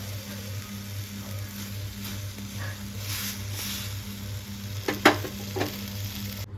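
Dates sizzle in a hot kadhai for dink ladoo, a steady close frying hiss broken by a few scraping stir sounds near the end, with a low background hum throughout.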